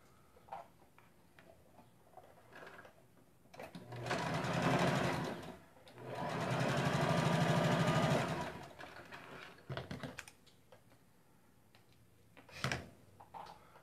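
A sewing machine stitches a seam on a small handbag in two loud, steady bursts of fast mechanical whirring, with quieter clicks and handling sounds before, between and after them.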